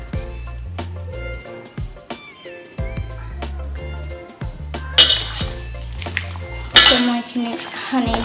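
Mutton in a metal pot being mixed by hand or spoon with ground cumin, a little oil and other spices, giving repeated scraping and clanking of utensil against pot, steady and close, with a few sharper clinks.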